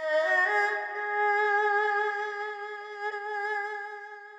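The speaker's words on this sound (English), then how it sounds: "our signature East Asian sound, which is actually going to come from the erhu, another Chinese string instrument" Erhu, a bowed Chinese two-string fiddle from a software plugin, sustains a smooth, gliding melodic line with slight pitch slides, played alone and fairly loud at close range.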